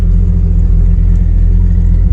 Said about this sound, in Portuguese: curtir o ronco do carro